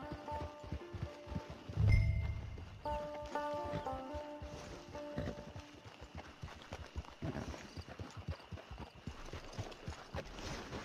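Horse hooves clip-clop in a steady, moderate walking rhythm in Red Dead Online, a video game, faint and continuous under ambient game sound, with a brief thump early on.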